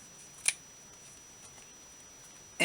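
Scissors snip through craft paper for zipper pulls, one crisp close cut near the start and another at the very end, with quiet room tone in between.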